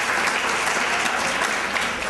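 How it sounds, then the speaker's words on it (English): A gala audience of alumni gives itself a round of applause, a dense, steady roar of many clapping hands filling the hall without a break. "Please give yourselves a big, big round of applause for making this happen."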